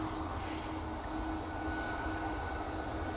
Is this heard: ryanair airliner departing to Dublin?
yes